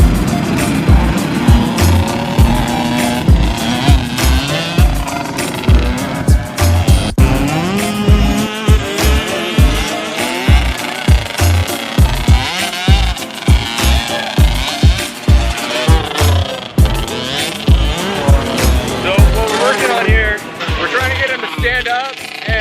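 A motocross dirt bike is ridden through mud on a practice track with its engine pulsing in repeated bursts of throttle, loud and close, while a person talks over it.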